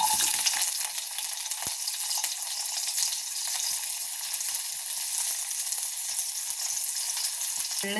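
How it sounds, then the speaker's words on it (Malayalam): Chopped shallots sizzle and fry in about one and a half spoons of hot ghee in a pan, a steady close crackling hiss running unbroken with no voices. "നമുക്ക് ചെറിയ ഉള്ളി അരിഞ്ഞത് അതിലേക്കിടാം."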